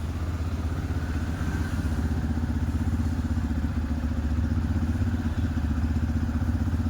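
A Yamaha FZ-S motorcycle engine idles at a raised RPM, a steady, close, rapid low thrumming pulse that holds even and loud throughout, with no speech.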